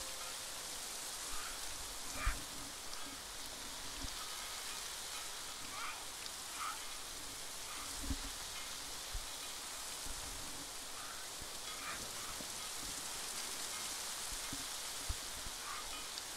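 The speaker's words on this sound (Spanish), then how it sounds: "No para más la lluvia acá," Steady rain falls in the video game New World, a continuous hiss of heavy downpour with faint scattered drops and soft thumps, moderately quiet throughout.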